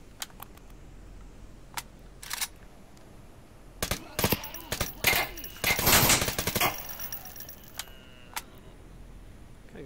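Gunfire in the zombies mode of the video game Pavlov. Sharp single shots and rapid automatic bursts come in irregular clusters, densest in the middle, over a quiet background without talking.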